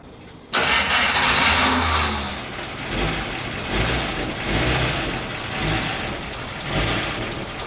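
A 1951 Buick Special engine is started with a key: a sudden loud catch after a brief quiet, then the engine settles into a steady, rumbling idle with slight surges in level, with no voices.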